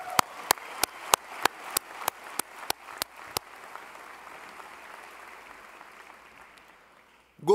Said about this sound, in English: we can now give ourselves a round of applause